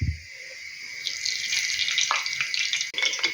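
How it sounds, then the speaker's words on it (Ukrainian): Hot lard sizzles and crackles steadily in a pot, a bright hissing fry that swells after a soft thud at the start. "Жир уже розігрівся, скварчить, буду додавати сюди м'ясо."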